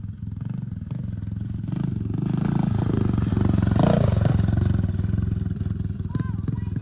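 Kawasaki Aura 110 motorcycle customized as a pitbike, its small engine buzzing steadily and swelling as it climbs a dirt trail, loud and close throughout.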